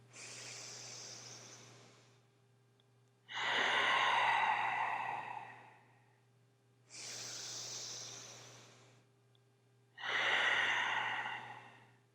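Slow, deep yoga breathing: two long nasal inhales alternate with two fuller, louder exhales, close and alone over a faint steady hum.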